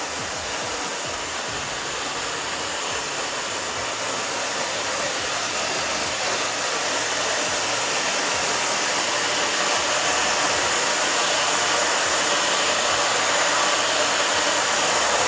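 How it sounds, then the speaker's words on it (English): A hair dryer blows continuously with a loud, steady rushing roar that never lets up, close by and with no talking, during a haircut styling session. "back here, back and forth with fingers and the dryer"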